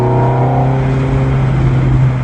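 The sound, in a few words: Ferrari F430 F1 Spider engine downshifting into fourth gear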